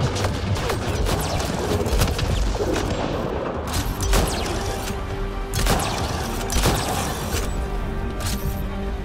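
Heavy weapon fire in Mass Effect Andromeda, several booming blasts spaced a second or two apart over dense rumbling combat noise, loud and close.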